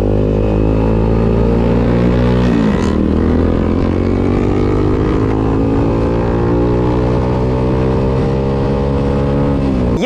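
Motorstar Cafe 400 motorcycle being ridden, its engine droning loud and steady throughout with a clear shift in pitch partway, close and alone without talk.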